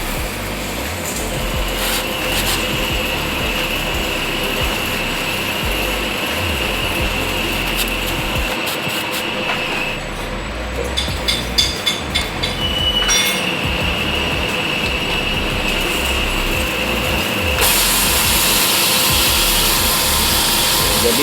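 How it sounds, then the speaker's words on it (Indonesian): A honing machine smoothing the cylinder of a Kawasaki KLX engine block fitted for a 66 mm piston, lubricated with diesel: a loud, steady mechanical grinding drone with rattling metallic chatter running continuously throughout. "ini sekarang mau masuk ke mesin hun buat dihalusin"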